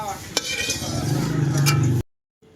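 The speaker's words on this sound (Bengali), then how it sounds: "এবারে তো শুকনা মরিচগুলো আলাদা করে ভেজে নিচ্ছি, আর শুকনা মরিচটা মশমশা করে ভেজে নেব।" Dried red chillies fry until crisp in a pan on a new stove, with a steady sizzle and a few sharp utensil clinks before the sound cuts off abruptly into silence.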